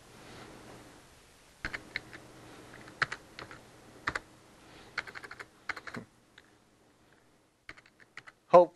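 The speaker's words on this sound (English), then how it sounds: "I'm going to go into Word and type in the command" Keys clatter on a computer keyboard as a command is typed into Word, in short bursts of close, crisp clicks with pauses between them and no talking.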